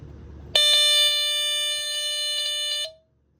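A piercing electronic squealer from a vintage Dicon SM-2B smoke alarm starts abruptly, holds loud and steady for about two seconds, dips slightly, then cuts off.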